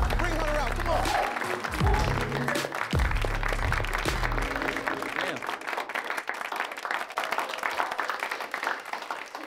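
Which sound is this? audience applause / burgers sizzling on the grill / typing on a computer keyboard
audience applause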